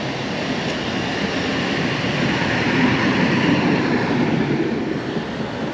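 A tram on Zakharova Street in Krasnodar rumbles past with a steady, broad roar of wheels on rails, fairly loud and continuous, no voices.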